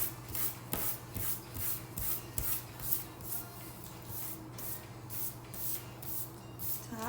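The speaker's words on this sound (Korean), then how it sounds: "이게 굉장히 부드럽게 지워져서 제가 학생 때부터 아주 즐겨 쓰던 지우개랍니다." A soft eraser rubs back and forth on paper in quick, faint, rhythmic strokes, repeating about a dozen times close up with no talk.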